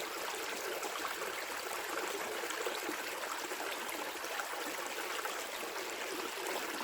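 A woodland stream in British wild-camping country flows with a steady, even rushing and trickling wash that stays at the same soft level throughout, with no voices.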